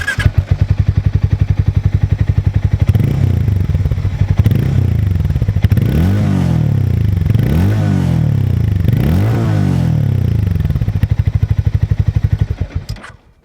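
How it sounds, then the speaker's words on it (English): A Hero Mavrick 440 motorcycle revs close by, its throaty exhaust climbing and falling in three or four strong blips over a steady idle, then cutting off near the end. "let's check out the exhaust note of the Mavrick."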